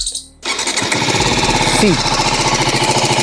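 Brief quiet, then a TVS Apache RTR 310 motorcycle engine cranks and catches, settling into a loud, steady, throbbing idle right up close.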